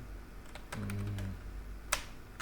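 Someone types a product description on a computer keyboard, giving a few quick, sparse key clicks with one louder tap near the end, close and quiet against a faint steady hum.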